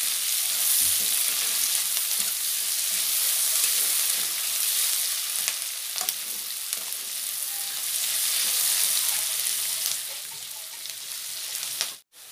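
Sliced onions and green chilies frying in a pan for a fish head curry, a steady close sizzle with faint stirring that holds for about twelve seconds, then cuts off abruptly at the end.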